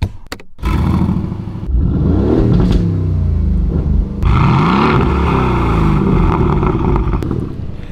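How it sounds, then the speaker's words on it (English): A straight-piped 2019 Aston Martin Vantage fitted with a Mercedes-AMG C63 V8 revs loud and close, its deep roar climbing and falling in repeated throttle blips with no one talking. "that's the sound of an AMG engine, more specifically a C63 engine"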